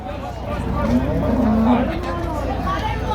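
Cattle low amid the steady murmur of a crowded livestock market in Shahrikhon, Uzbekistan, with people talking throughout.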